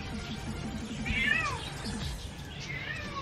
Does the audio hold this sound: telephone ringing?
no